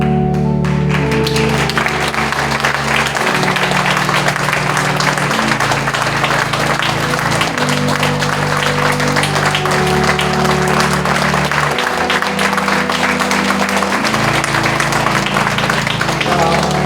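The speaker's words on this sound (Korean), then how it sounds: "우리 더 크게 박수 한번 주세요" A church congregation at a pastor's installation thanksgiving service applauds loudly and continuously, a dense sustained wash of clapping over organ or keyboard chords.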